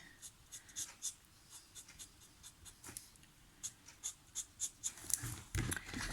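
A marker's nib end colouring a stamped butterfly image, giving soft, close scratchy strokes in quick uneven bursts, faint and with no talk.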